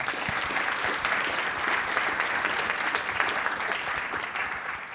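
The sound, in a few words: audience applause at a conference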